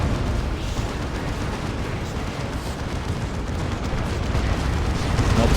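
Dense barrage of tank buster explosions from an Ork force battling Imperial Guard in Dawn of War 2, a continuous rumbling wall of blasts and booms that swells louder toward the end.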